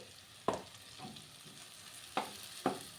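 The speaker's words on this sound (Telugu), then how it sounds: "టమాటా కూడా ఫ్రై అయిపోయింది కొంచెం ధనియాల జీలకర్ర పొడి కొద్దిగానండి" Tomatoes fry with coriander-cumin powder under a faint, quiet sizzle, broken by a few sharp spatula clacks and stirs against the pan.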